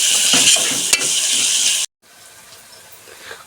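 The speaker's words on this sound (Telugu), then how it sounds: "ఆనియన్స్ అయితే బాగా మగ్గిపోయాయండి" Onions sizzle and crackle loudly in a hot pan while being stirred, a dense frying hiss with a couple of sharp scrapes, then a brief cut to a quieter, softer sizzle.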